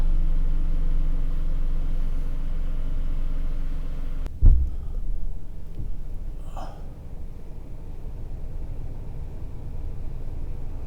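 A Mercedes W140's engine idles with a low, steady rumble, then a sudden thump jolts the sound before it settles back into a quieter, even idle as it warms up.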